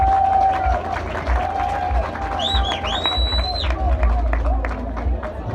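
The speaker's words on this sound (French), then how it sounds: "je vous demande d'applaudir ce côté et juste derrière moi, mes chers amis." A graduation ceremony audience at a law faculty applauds and cheers in a dense, boomy roar of crowd noise, with a sustained tone and rising whoops over the top.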